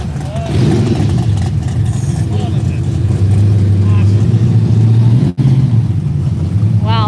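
A gasser-style classic drag car approaches at an outdoor car show in Glendora, California, its engine rumble swelling and holding a deep, loud drone beneath nearby talk and background crowd noise.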